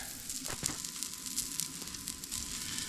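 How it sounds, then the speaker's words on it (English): Steak sizzling on a hot surface at a winter campsite, a steady close crackling hiss with small pops and spits throughout, no voices. "normally I cook the steak at about 500 degrees for 3 minutes per side"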